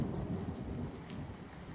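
Steady rain with a low rumble of thunder washes through as a continuous, fairly close background of patter and deep roll, with no voices.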